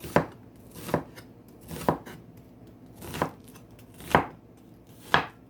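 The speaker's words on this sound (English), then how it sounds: "I'm just gonna cut the onions like so" Six evenly spaced knife chops cut through a white onion on a board, each a crisp thud with a short tail, clear and close with quiet gaps between.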